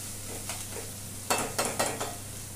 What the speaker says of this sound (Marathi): कांदा गोल्डन ब्राऊन कलरवर फ्राय करून घेऊया।